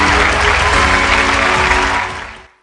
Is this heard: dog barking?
no